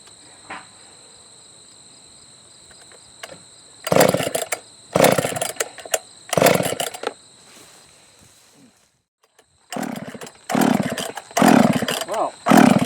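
A vintage Husqvarna 154 chainsaw fires in short loud bursts of high-revving two-stroke engine noise, several separate revs with gaps between, close to the microphone over a constant insect-like background whine.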